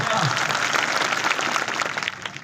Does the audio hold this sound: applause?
yes